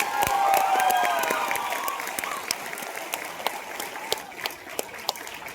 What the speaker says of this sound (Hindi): इसे प्रियंका दीदी के लिए शानदार, जानदार, जबरदस्त ताली